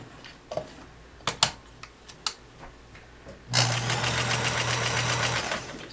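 A domestic sewing machine stitching a quilt seam while piecing a quilt, starting after a few scattered clicks and running steadily and loudly for a couple of seconds with a fast even whirr.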